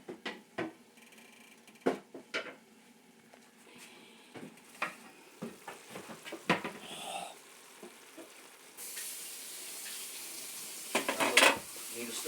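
A stir-fry sizzles in a pan as it is stirred, with soft scrapes and clinks of a utensil against the pan over a quiet, steady frying hiss.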